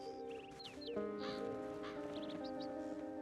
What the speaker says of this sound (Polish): Ćwierkające poranne ptaki to było to, co chciałem usłyszeć po przebudzeniu.